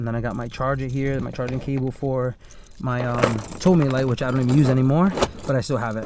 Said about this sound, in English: like, that's a cat key, and just a bunch of different keys